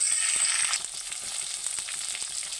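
Chopped ginger and three slit green chillies sizzle in hot oil in a kitchen pan, a steady close hiss with a brighter burst at first that then settles to a softer, even fry.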